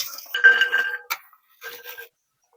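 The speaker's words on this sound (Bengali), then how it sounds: "তো এবার আমি এই রসুনগুলো কড়াইয়ের মধ্যে দিয়ে দেবো" Garlic cloves rubbed with mustard oil drop into a kadai, giving a few bright metallic clinks and a short ringing tone in two brief bursts, with quiet between.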